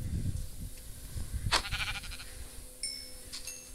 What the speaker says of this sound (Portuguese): Eu encontrei uma ovelha das mais raras.